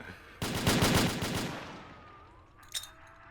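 Rapid burst of video game gunfire blasting at turrets, a loud rattling volley of about a second that trails off into a fading ring, then a short sharp impact near the end.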